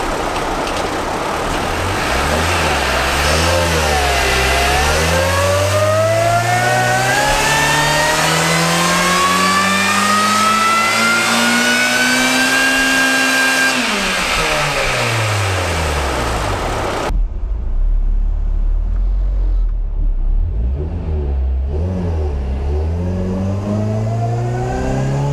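A ninth-generation car engine newly set for an 8,500 RPM redline revs up in one long, loud climbing sweep, falls away, then builds again in a second shorter run, with no talking.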